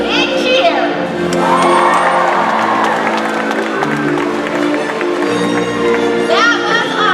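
A crowd at a SeaWorld Orlando orca show cheers and whoops loudly as an orca leaps. Children's shouts stand out in the steady roar, and an announcer's voice sits over the noise.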